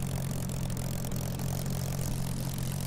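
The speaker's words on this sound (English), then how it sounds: "the engine sounds quite different." A Spitfire Mk IXc's piston engine idles in Microsoft Flight Simulator, a steady, even low drone with a constant throb that holds at one level throughout, with no voices.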